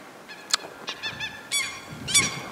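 Geese honk in short, nasal calls, several voices in irregular bursts, close by and fairly loud on a farm with chicken coops, with no one talking.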